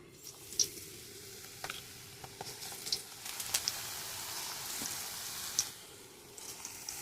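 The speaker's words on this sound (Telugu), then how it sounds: "నూనె కాగింది కదా, వేసేసుకుందాం అందులో మనం. బజ్జీలు వేసుకుని తినేద్దాం." Bajji fritters made with gram flour batter frying in hot oil, a soft continuous sizzle with scattered sharp crackles and pops, fairly quiet and close, with no talking.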